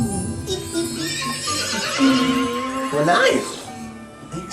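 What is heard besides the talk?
horse neighing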